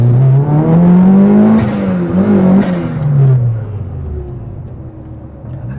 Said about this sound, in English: How do you like the exhaust? Fantastic. Isn't it nice?